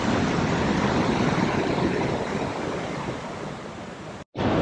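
Victoria Falls in Zambia gives a dense, steady roar of falling water, loud and unbroken, with a brief dropout near the end and no talking.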